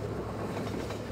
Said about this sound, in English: the train comes to a stop eventually